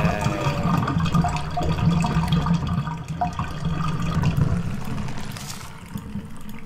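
Bathwater drains out of a tub in the horror game Stigmatized Property, a steady gurgling, rushing flow that stays fairly loud and continuous throughout, with no talking.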